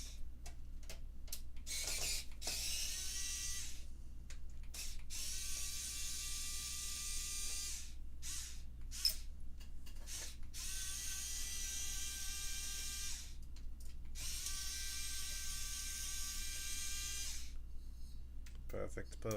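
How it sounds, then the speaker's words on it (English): Screws being driven out of the underside of a PS5 console with a powered screwdriver, giving several bursts of whirring, each a few seconds long and broken by short pauses, under a steady low hum. "I'm gonna take out these bottom screws first."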